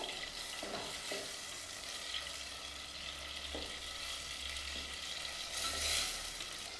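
Tomato paste being stirred into a sauce in a cooking pot, a steady sizzling simmer with soft scraping strokes of the spoon, close and moderately quiet, with no talking.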